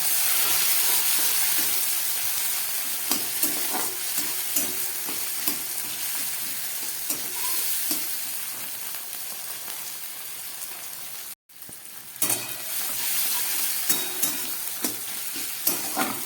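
Steady, loud sizzling of chopped tomatoes frying in a hot pan with reddened onions, with occasional stirring scrapes and a brief dropout partway through.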